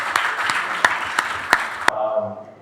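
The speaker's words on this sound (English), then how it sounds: "Can we give him a resounding round of applause?" Conference audience applauding a CEO at a real estate session, a steady burst of clapping with a few louder claps, ending abruptly into quieter room tone.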